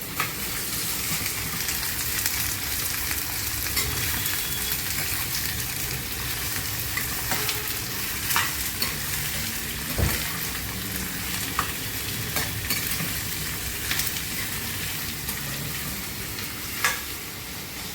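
Long sliced onions sizzle and fry in hot oil with cardamom for chicken sukka, a constant loud crackle with periodic scraping and clinks of a spatula stirring the pan, close up with no talking.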